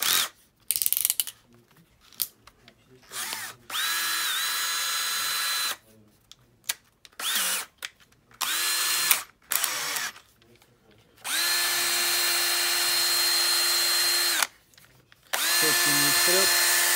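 Makita DF333 cordless drill-driver from 2023 whirring in several steady runs of a few seconds each, close up, broken by short pauses and handling clicks, the clutch ratchet engaged.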